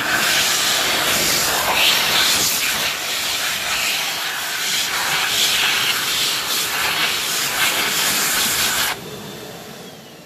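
An Xlerator Excel hand dryer in a mall restroom blows a loud, steady, hissing roar for about nine seconds, then shuts down abruptly and leaves a fainter, lower wind-down.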